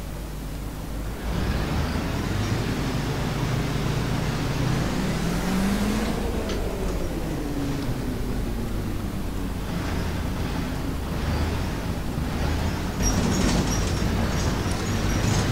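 A vintage LAZ 695 city bus drives along a narrow Polish road, its engine a steady low rumble under broad road and wind noise that stays constant throughout, with rattles and a brief rising whine partway through.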